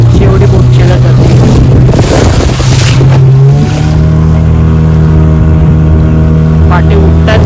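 A fishing boat's engine drones loud and steady on a rough sea off Mumbai, its pitch shifting as the throttle eases while tall waves roll up behind; wind and water wash over it, with a voice talking along.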